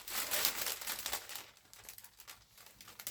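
Cellophane wrapping for an artificial flower bouquet crinkles up close, a dense continuous rustle that is loudest early on and then settles into softer, patchier crackling.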